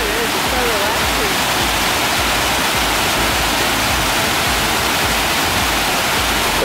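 Steady, loud rush of flowing water along the San Antonio Riverwalk, a dense broadband roar continuing unbroken and close throughout.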